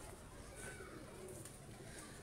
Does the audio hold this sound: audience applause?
no